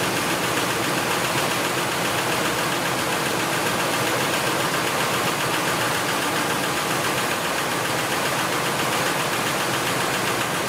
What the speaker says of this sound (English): I still hear what I think to be valve train noises.